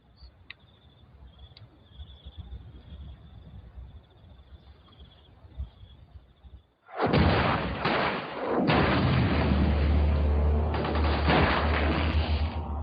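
A firefight between soldiers and the enemy erupts after a quiet stretch with a faint high tone, turning into loud, dense, continuous gunfire with sharp cracks and heavy rumbling booms, close and sustained.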